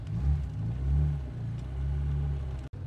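A Lada car engine revs hard during a burnout, a loud, sustained low rumble that swells and dips in waves before cutting out abruptly near the end.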